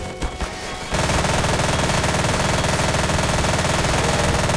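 Sustained automatic AK rifle fire from a Garry's Mod boss-battle game, a dense rapid rattle that bursts in loud after a brief quieter lead-in and keeps hammering steadily to the end.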